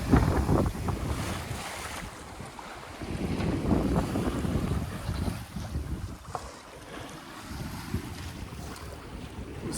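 Sailboat S/V Quetzal underway at sea toward Martha's Vineyard, with gusty wind buffeting the microphone and waves rushing and splashing against the hull in surging swells, no voices.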